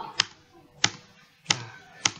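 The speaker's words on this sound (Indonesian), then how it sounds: "Kita tekan tombol space pada keyboard." Space bar pressed on a computer keyboard while running a Scratch-style program, four sharp isolated taps spaced roughly evenly apart, close and clear over a quiet room.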